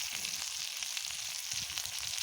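Cumin seeds fry in hot oil, giving a steady, close crackling sizzle that runs evenly from start to finish with no voices.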